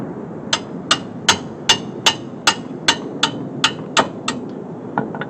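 A hammer strikes a metal brake part on a 2015 Subaru Forester about a dozen times in a steady rhythm, each blow a sharp ringing clank, close and loud.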